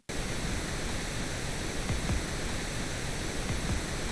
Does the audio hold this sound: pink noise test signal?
yes